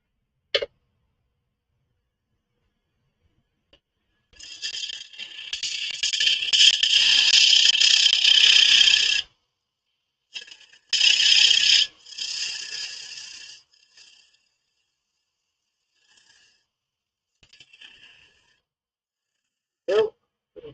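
Wood is sanded on a lathe with 120 grit sandpaper, a loud, bright hiss in two bursts of several seconds each, separated by a pause, with quieter scratching and brief knocks around them.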